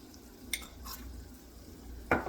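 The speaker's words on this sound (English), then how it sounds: "And give that a stir." Stirring red chili enchilada sauce in a cooking pot, soft scraping and light clinks near at hand, with a brief sharper scrape at the end, no talk.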